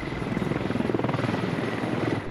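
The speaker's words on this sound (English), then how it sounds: "Another chopper on Quebec 13" A helicopter in the military shooter game Squad thumps overhead with fast, regular rotor chopping, steady and fairly close, without talk.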